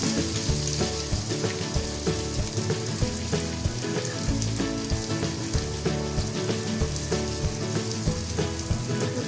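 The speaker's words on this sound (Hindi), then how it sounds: "तो अभी हम बटर के मेल्ट होने का इंतजार करेंगे." Butter and oil melting in a pan, a steady crackling sizzle with a light background hum throughout.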